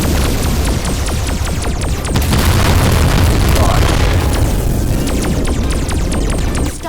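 Repeated booming blasts from homing bombs in the VR game Voltron VR Chronicles, loud and continuous, with sharp clicking shots rattling over a dense low rumble throughout.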